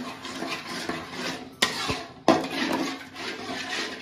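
Prawn curry gravy stirred in a pan over a medium flame, soft scraping and clinking of a spoon against the pan, with two sharper knocks partway through and no talking.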